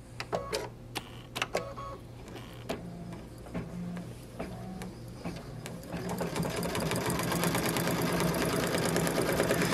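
A Baby Lock Solaris Vision embroidery sewing machine stitches edge-to-edge work, starting with scattered clicks and taps before settling into a fast, continuous, close-up mechanical whirring rattle.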